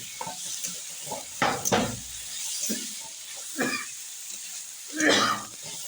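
Ginger, garlic and chili frying in a pan for a desi-style egg chadachadi curry, with a faint sizzle broken by a few louder bursts of stirring and utensil scrapes.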